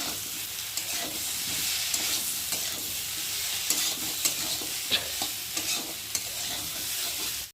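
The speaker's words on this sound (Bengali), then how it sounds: "সয়াবিনের সাথে মশলাটা ভালোভাবে কষিয়ে নেব।" Soaked soybeans stir-fried with spice paste in a pan, a dense continuous sizzle with frequent scraping stirs and light clinks throughout, close and steady, with no talk.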